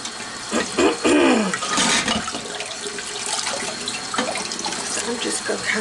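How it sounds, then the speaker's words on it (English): Water runs from a kitchen tap while something is rinsed, a steady splashing gush with louder bursts early on and a voice talking briefly over it. "I'm just going to kind of rinse."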